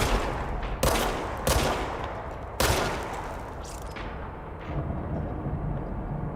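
Repeated gunshots from the service weapon in the video game Control, a few sharp loud bursts over a steady rumbling game backdrop, with no talk.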